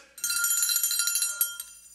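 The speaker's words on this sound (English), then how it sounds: "Is my bell down there?" A small hand bell rings in a quick rapid shake for about two seconds, bright and close, then stops, in a church service setting.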